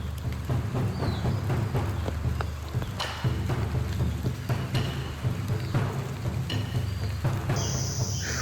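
Steady rain falls during a mountain trek, with occasional low rumbles of thunder under the constant wash of the downpour and no voices.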